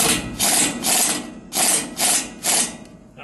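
Nut tightened on a New Holland 630 baler during an overhaul, probably with a ratchet wrench: several bursts of rapid clicking come close and loud, separated by short pauses.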